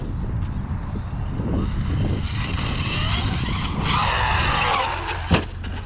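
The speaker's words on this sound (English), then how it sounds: "I got a diff gear slipping somewhere." A Traxxas X-Maxx 8s RC car running with a slipping differential gear: a loud, steady whine and grinding rises and wavers throughout, close by, ending with a brief sharp knock.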